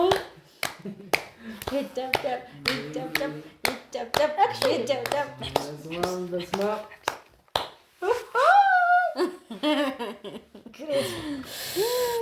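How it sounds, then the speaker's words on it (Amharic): Scattered handclaps from a small group at a surprise celebration, sharp and irregular, mixed with people talking and some laughter. "ኧረ አጨብጭቡ"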